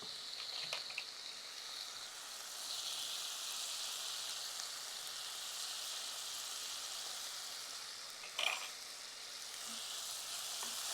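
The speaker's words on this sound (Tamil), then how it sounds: "இப்போ இதை நிதானமான தீயில, ரொம்ப குறைக்க வேண்டாம், நிதானமான தீயில நல்லா வதக்கணும்." Tomatoes with turmeric and salt sauté in a pan over a medium flame, a soft, steady sizzle with faint stirring and one brief clatter near the end.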